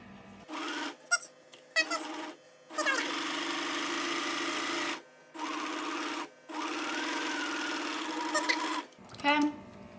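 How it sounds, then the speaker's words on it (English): A sewing machine runs a straight seam over elastic in several bursts, starting and stopping with short gaps, each run a steady whirring hum with faint squeaks, close and fairly loud. "you're just going to sew a straight line all the way down"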